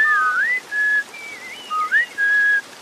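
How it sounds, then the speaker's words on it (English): A dry, close whistle plays two short melodic phrases of sliding and held notes with no reverb tail, clean and alone in a quiet outdoor cave game scene. "So we get a dry sound on the whistle."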